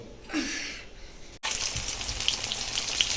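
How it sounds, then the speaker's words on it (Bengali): Pumpkin flower fritters frying in hot oil, giving a steady crackling sizzle with a soft hiss that swells louder partway through, close and with no talking. "এই দেখো এখানে কুমড়ো ফুলের বড়া ভাজা হচ্ছে"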